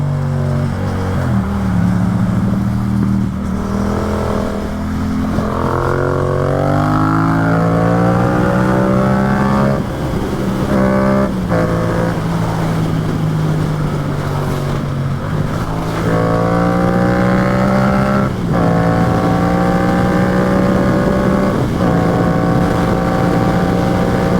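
A Yamaha FZ-07 motorcycle ridden hard roars close and loud, its engine revving up and down through repeated rising pitch sweeps as gears change, with heavy wind rush over the microphone throughout.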